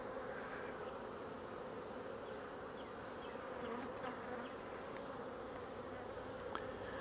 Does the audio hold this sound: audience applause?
no